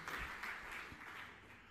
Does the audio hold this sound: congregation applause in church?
yes